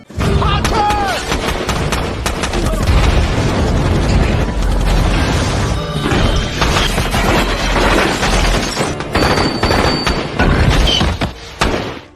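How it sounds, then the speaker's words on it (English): Loud, dense bursts of gunfire and booming blasts fill a chaotic movie firefight, with shots overlapping continuously and occasional shouted voices. "The atmosphere was tense, gunshots were exchanged."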